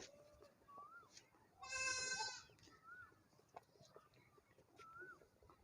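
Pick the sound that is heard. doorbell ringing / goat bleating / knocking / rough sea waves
goat bleating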